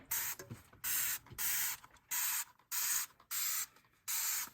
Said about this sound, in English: Wow, that takes a lot of sprays.